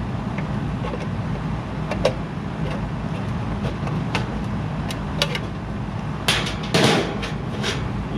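Scattered sharp knocks and strikes of a Klein hammer ring out at irregular intervals over a low background hum while working on a walk-in cooler.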